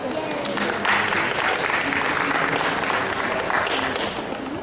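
An audience at an Adelaide body, mind and psychic expo applauds as the show ends, with continuous dense clapping that swells slightly near the start and holds steady, loud and unbroken to the end.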